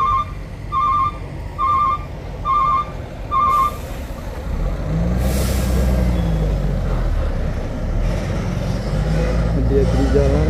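A Hino trailer truck loaded with steel pipes and iron grating drives a hilly road. A run of evenly spaced reversing-style beeps gives way to a steady, heavy diesel rumble with a sharp air-brake hiss, loud and close.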